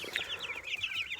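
Hatchery chicks peep in a rapid, continuous run of high chirps, close and fairly soft, in a brooder holding young Whiting True Green and white-laced red Cornish roosters from McMurray Hatchery.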